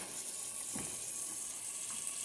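Tap water runs steadily from a kitchen faucet, warmed to between warm and hot for pizza dough, in a continuous close wash of sound with no talking.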